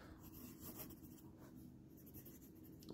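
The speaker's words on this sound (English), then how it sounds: "I'm writing the quick brown fox with a pencil." A pencil in a brass holder scratching across paper, a close, faint, continuous rubbing of strokes and letters in a quiet room.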